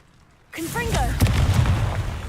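A loud fiery Confringo spell blast in Hogwarts Legacy erupts suddenly after a quiet moment, followed by crackling rumbling impacts, with a voice sounding over the start of the burst.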